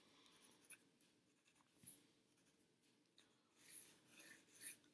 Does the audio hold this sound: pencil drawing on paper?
yes